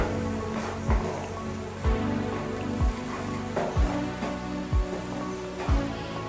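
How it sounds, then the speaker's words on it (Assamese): Small boroli fish with turmeric sizzle and crackle steadily in an oil-filled pan, a dense hiss like rain with faint periodic thumps underneath. "এতিয়া মই এইখিনি পূৰা ভালকৈ ফ্ৰাই কৰি ল'ম"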